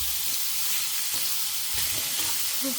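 Thinly sliced snake gourd sautéing in oil, a continuous close sizzle with soft scraping stirs and a few faint utensil clinks scattered across the clip.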